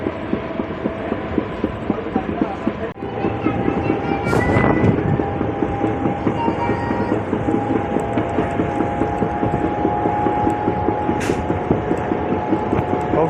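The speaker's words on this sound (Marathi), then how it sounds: "जर्नी करत आहोत मी अकोला अकोट एक्सप्रेसमध्ये, जे पॅसेंजर म्हणून डेमो चालत आहे" Akola–Akot DEMU passenger train running on the Akola–Khandwa line, heard from inside the coach: a loud, steady rumbling drone with continuous rhythmic clatter and throb, plus a brief louder burst of noise early on.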